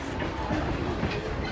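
A Blue Ridge excursion train rolls along its rails, a faint steady rumble with soft rhythmic clatter of wheels heard from inside the car for a brief moment.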